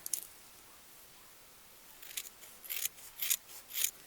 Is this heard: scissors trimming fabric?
yes